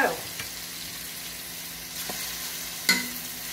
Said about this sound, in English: we're searing our chops first